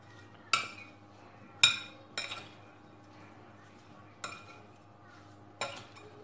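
A spoon stirs spices into a mixed vegetable pickle of carrot, radish, cauliflower, chili and peas in a pot, making five sharp metallic clinks spaced apart over a quiet background.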